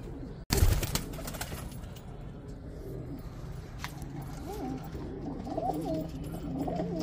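Soft, close cooing from pigeons being held in the hand, after a brief knock near the start, with the low rolling coos growing more frequent toward the end over faint background noise.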